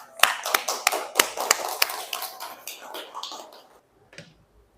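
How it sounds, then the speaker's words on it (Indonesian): Applause follows a group presentation in a classroom: a short burst of sharp, close hand claps that thins out over a few seconds, then stops, with faint speech under it. "Kasih aplaus."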